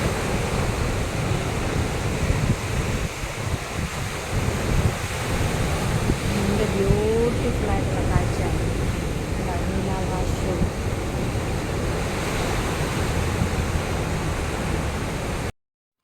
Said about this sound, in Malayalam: ഒരു ഭംഗിയാ കടലിൻ്റെ ആ സൗണ്ട് ഒന്ന്